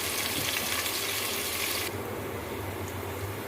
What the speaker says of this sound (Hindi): आधा कप ऑयल डाल के इसमें प्याज शामिल कर दिए